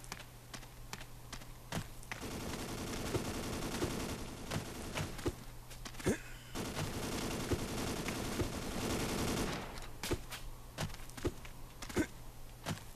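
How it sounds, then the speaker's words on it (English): Gunfire in the Ace of Spades video game: sustained automatic bursts over several seconds, mixed with sharp separate shots and clicks, loud and close, then easing to scattered single cracks near the end, with no voices. "What are you shooting at, bro?"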